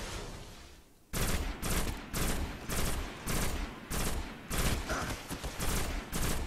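Gunfire in the shooter game Destiny: after a quiet second, a rapid string of loud automatic bursts comes in repeated, closely spaced volleys until the end.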